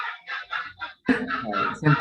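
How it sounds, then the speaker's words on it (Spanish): A hen clucks in a rapid series of short, bright calls, close and fairly loud, in two bursts separated by a brief pause, with the second burst fuller and busier. "Ahí escuchan la gallina."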